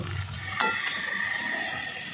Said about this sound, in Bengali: তেল গরম হয়ে গিয়েছিল, সেই জন্য আমি মশলাটা দিয়ে দিলাম। এরপর ভালো করে কষিয়ে নেব।